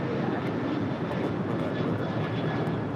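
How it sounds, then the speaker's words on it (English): Alaska Airlines flight 1219, a Boeing 737-900 without winglets, departing LAX for Seattle: a broad, steady jet engine roar fills the whole stretch, close and loud, with no voices. "This is Alaska 1219 departing to Seattle on the 737-900."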